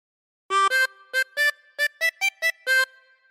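Opening phrase of Pop Goes the Weasel played on a tremolo harmonica, a run of about ten short and held notes in a bouncy rhythm, close and solo with no talking.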